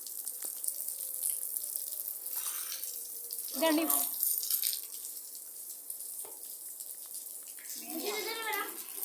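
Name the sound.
water running from a tap while washing the floor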